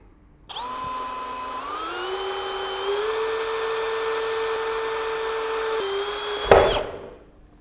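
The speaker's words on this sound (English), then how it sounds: "This is a 6 mm wood drill bit and we try to do this on a plywood." A Bosch GSB 185 LI cordless impact drill spins a 6 mm wood bit into plywood, a steady motor whine rising in pitch as it speeds up, ending with a rough burst as the bit breaks through.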